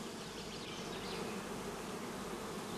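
Honey bees buzz around a new colony with a young queen and fresh combs, a dense continuous hum of many insects filling the air close by with no voices.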